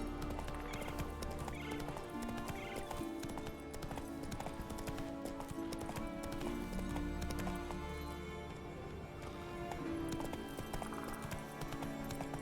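Horse hooves clip-clop steadily in The Witcher 3, with neighs and whinnies over a dense game soundscape, at moderate loudness.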